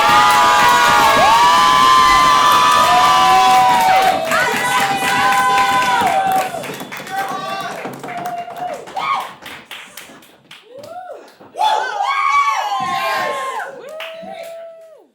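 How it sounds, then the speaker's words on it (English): A live late-night show audience claps and cheers loudly together, a dense burst of applause and whoops that fades after several seconds into scattered claps and shouts. "give the round of applause going for Kenzie"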